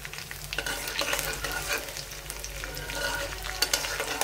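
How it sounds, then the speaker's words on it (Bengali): Cinnamon and cardamom frying in hot oil in a wok while onions cook for a beef mince biryani, giving a steady close sizzle with stirring scrapes throughout. "তেলের ভিতরে দারচিনি এলাচি দিয়ে দিছি।"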